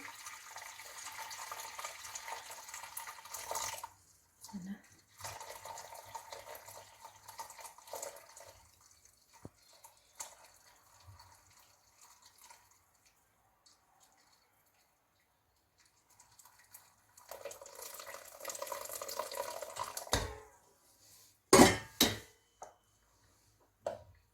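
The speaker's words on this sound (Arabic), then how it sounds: "نديرو الماء يكون غالي، نزيدو على حتى يوصل النص ديال الكيسان" Hot water is poured into a pot around cups of homemade yogurt, giving a close, bubbling trickle with drips that stops, then a second burst of pouring with splashes near the end.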